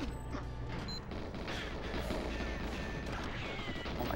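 Explosions and crashing blasts in the GoldenEye video game, a dense, continuous rumble of booms and debris throughout with no voices.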